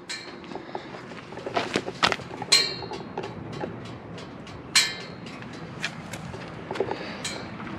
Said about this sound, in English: It's the exhaust ticking.